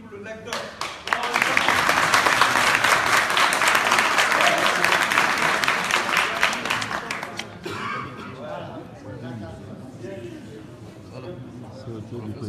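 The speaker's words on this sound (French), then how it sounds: "On applaudit pour le lecteur." A crowd claps for a reader at a Guinean gathering, dense loud applause swelling after a brief start and fading out after about six seconds, followed by scattered voices and light talk.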